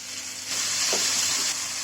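Fenugreek leaves go into a pan of broken-wheat upma with green chillies, curry leaves and onion, and a sudden loud sizzle bursts up and holds steady for about a second.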